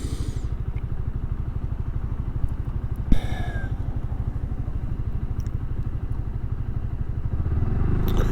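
A Suzuki Burgman 400 engine drones evenly while riding, with a low pulsing note, wind rumble and one brief clatter partway through.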